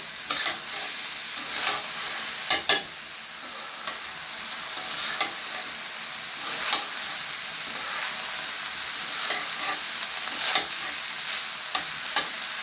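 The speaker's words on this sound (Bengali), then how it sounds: "চাউলের সাথে মশলাগুলো ভালোভাবে নেড়ে ছেড়ে মিশিয়ে ভালোভাবে চাউলটা ভেজে নেব।" Rice with spices stirred and fried in a pot for khichuri, a steady close sizzle broken by recurring scraping stir strokes every second or two, with no voices.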